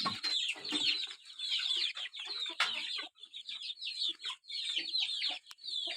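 Chickens and twelve young chicks fill a backyard coop with steady, overlapping clucks and high peeping chirps, close and continuous with brief pauses.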